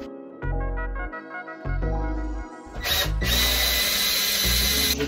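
Power drill driving screws while building a garage and storage space inside a converted school bus, close and loud, with motor whine rising and falling in short pulses before one long, sustained high-pitched run.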